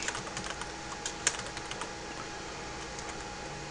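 Fingers tapping out a password on a computer keyboard during a Windows 7 setup, a steady run of light, quick key clicks with one sharper press near the middle, close and without talk.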